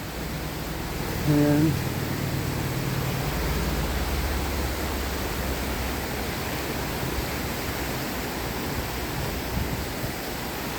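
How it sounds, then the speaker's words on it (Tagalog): A rushing river current flows in Saalbach, Salzburg, Austria, making a steady, broadband roar throughout. A voice speaks briefly near the start. "Sarap sa pakiramdam na marinig mo yung gaspas ng agos ng ilog."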